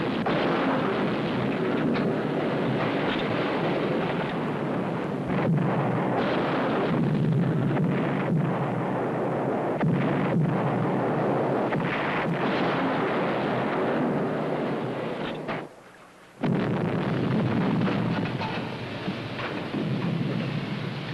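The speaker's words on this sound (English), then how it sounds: "Fire full depth charge pattern." Depth charge explosions in a submarine war film, a continuous loud rumbling barrage of deep booms with sharp cracks, briefly cutting to near silence before the thunderous pounding resumes.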